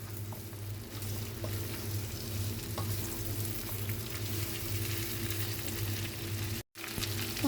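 Chicken feet, first boiled with salt and black pepper, sizzle and crackle steadily in hot oil in a pan for adobo, a continuous close frying hiss with a low hum underneath and a brief dropout near the end.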